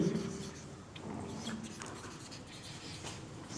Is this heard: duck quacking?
no